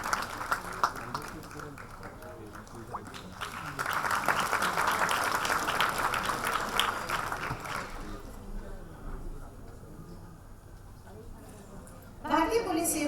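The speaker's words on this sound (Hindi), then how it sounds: "तालियां बजाएं।" Audience applause at a ceremony marking an Indian organisation's foundation day. A swell of clapping fills the middle of the clip, while a voice speaks over a hall ambience before and after it.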